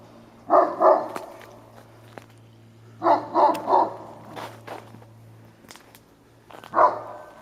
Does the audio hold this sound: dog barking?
yes